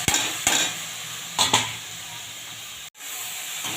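Chopped, washed kulekhara greens drop into a hot frying pan with a few sharp clatters and bursts of sizzle, followed by a steady hiss and a short gap near the end.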